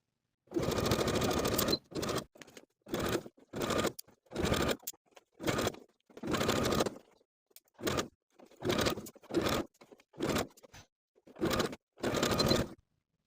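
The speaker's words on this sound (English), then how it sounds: "Sew with a 3/8 inch seam allowance, stretching that band to fit." A sewing machine runs in a dozen short bursts of stitching while a stretched knit band is sewn onto a sweatshirt cuff seam, with brief pauses between runs and no talking.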